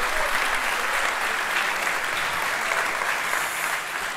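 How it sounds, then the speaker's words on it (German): A studio audience at a German sports entertainment show applauds the winner of a bottle-cap game, steady and loud clapping that fills the whole moment without pause. "einen großen Applaus für unseren Deckel-Derby-Gewinner"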